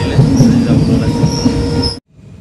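A passenger train rolls along with a steady rumble, faint wheel squeal and a high whine above, continuous for about two seconds before it cuts abruptly to quiet.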